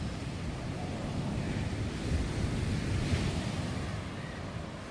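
Large sea waves at a shoreline, a continuous broad roar of surf with gusty wind noise on the microphone, steady and fairly loud throughout without speech.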